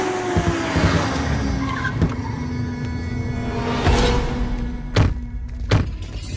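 A car brakes and skids to a halt with a tire squeal, followed by a few sharp thuds close by, with no talk over it.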